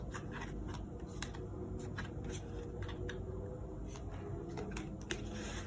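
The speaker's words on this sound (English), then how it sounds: "These need a much better shuffle" Tarot cards being shuffled by hand, a close, quiet patter of light card clicks and rustles in an uneven rhythm with no voices.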